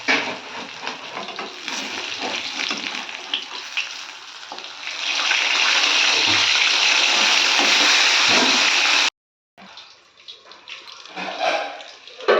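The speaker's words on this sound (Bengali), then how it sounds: "আর মাছটা ভেজে নেবো।" Fish rubbed with salt and turmeric fries in oil in a kadai, giving a steady, close sizzling hiss that swells louder midway, breaks off briefly, then returns more softly.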